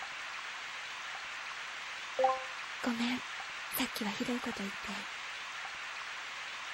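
Steady, even rain hisses throughout a scene in the video game Kisetsu wo Dakishimete, while someone speaks over it for a few seconds.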